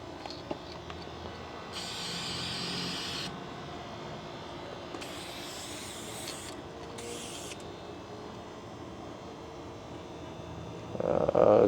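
Spray can painting classic truck parts black, with several hissing bursts of a few seconds each, fairly close, then a louder rustle at the end.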